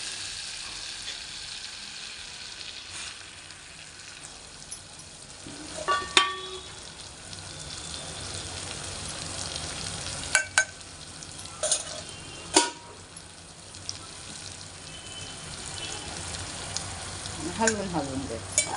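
Prawn curry masala with turmeric sizzles in a pan while being stirred, a steady frying hiss broken by occasional sharp scrapes and clinks of the spoon against the metal.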